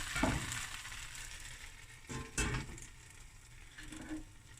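Cheddar and jalapeño sandwich toasting in a lidded pan, giving a soft, steady sizzle with a few louder clattering bumps from handling the pan.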